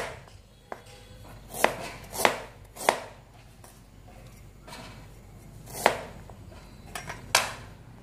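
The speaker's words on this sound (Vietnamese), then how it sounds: "Gừng nghệ thì các bạn là thái ra cho mình và mình đem đi giã nhé." A knife slices ginger and turmeric on a cutting board before pounding, with about eight sharp, separate chops at an uneven pace, close and clear with no talk.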